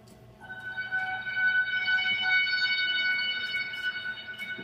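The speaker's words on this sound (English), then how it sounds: "some cities and towns in Tornado Alley have tornado sirens" A tornado warning siren wails steadily, its tone rising and holding at moderate loudness before easing slightly, with no voices over it.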